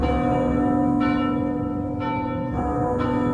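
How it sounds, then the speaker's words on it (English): Church bells peal continuously and loudly, with new strikes ringing out about every second over a sustained, overlapping resonance. "The sound of bells still pealing all around you."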